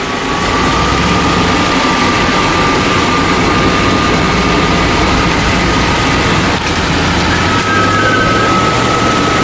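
An SJ Jeep Grand Wagoneer Woodie with a classic V8 engine driving, its steady low engine roar and drone loud and close throughout, with a thin whine running under it.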